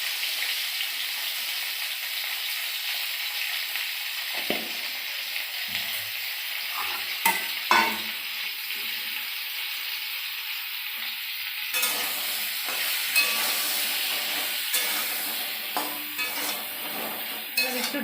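Pointed gourd frying in a pan with salt and turmeric, a constant bright sizzle broken by repeated spatula scrapes and occasional utensil knocks, close and steady with no talking.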